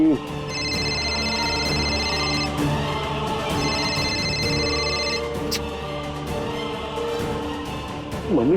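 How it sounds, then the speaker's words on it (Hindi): A telephone rings on and off in two long electronic bursts over a steady bed of dramatic background music, with no one picking up. "मम्मी फोन क्यों नहीं उठा रही?"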